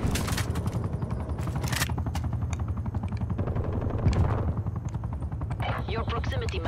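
Rapid automatic gunfire in a Black Ops Cold War free-for-all match, loud dense bursts of shots rattling continuously with a heavy low drone beneath.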